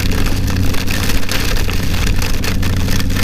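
Heavy rain pelts a motorcycle helmet during a ride, a dense, loud, continuous hiss and patter over a low engine and road rumble, with no talking.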